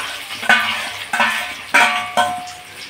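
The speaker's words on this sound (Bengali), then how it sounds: "এবার এই মিশ্রণটা সবটুকুই আমি এই তেলের মধ্যে দিয়ে দেব" Spicy egg mixture hits hot oil and frying sounds follow, with several sharp clatters of a spoon against the pan at irregular intervals over the sizzle, each fading away, close and with no talking.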